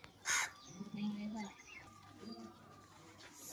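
Crows caw in bursts near a household meal offering, mixed with family chatter; a loud harsh call rises early, then softer calls continue under the talking.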